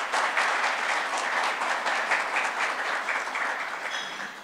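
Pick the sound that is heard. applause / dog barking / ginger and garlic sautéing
applause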